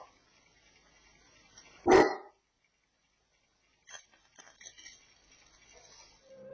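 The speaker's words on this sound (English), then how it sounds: "Moments after her dog starts barking" A single loud dog bark rings out close by in an otherwise quiet house, followed by a few faint scattered rustles and knocks.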